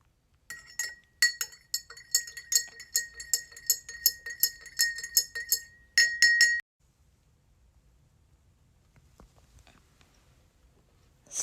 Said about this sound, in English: Add some to our tiny spoon and stir again.